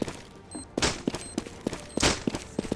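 Rapid gunfire in the video game Counter-Strike: Global Offensive, several sharp bursts of shots in quick succession, loud and close, with small clicks and metallic pings between volleys.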